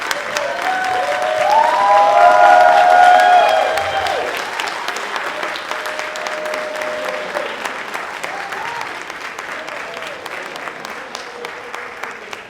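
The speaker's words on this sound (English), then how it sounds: "Y'all, please give MC Deborah a round of applause." An audience at a Black Pride heritage awards ceremony in New York claps for MC Deborah, a loud swell of applause that peaks early and then thins to scattered claps, with brief voices and a tonal sound underneath.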